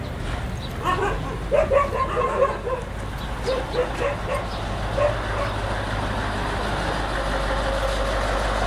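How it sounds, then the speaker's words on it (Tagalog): A dog barks in a burst of several quick, yipping barks, then a few scattered ones, over a constant low rumble of nearby vehicle traffic. "Yung aso."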